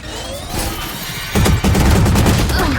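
Video game gunfire bursts in rapid volleys, a steady rattle that jumps louder and denser midway, close and harsh throughout.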